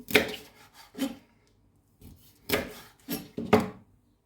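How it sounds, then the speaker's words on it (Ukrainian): A knife slices fish into small pieces on a wooden board, giving several separate close rasping strokes in short bursts with brief pauses between them. "Наріжу шматочками такими невеличкими"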